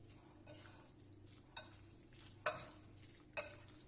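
Chicken döner marinade stirred in a bowl, soft scraping swishes with three or four sharper clinks of a utensil against the rim, close and quiet with no talking.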